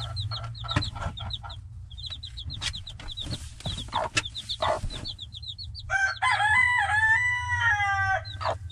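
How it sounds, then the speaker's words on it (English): A rooster crows in a farm henhouse, a loud drawn-out cock-a-doodle-doo near the end, preceded by steady clucking and chirping from nearby hens over low barnyard rumble. "Hear the rooster crowing."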